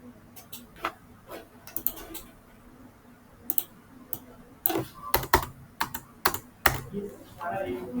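Fingers type on a computer keyboard in quiet, irregular bursts of close clicks, sparse at first and then quicker and denser toward the end, with no talk over them.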